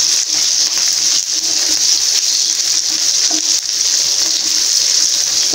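Garlic and onions sauté in a pan for a garlic kulambu, giving a steady, close, bright sizzling hiss that runs unbroken with no talk.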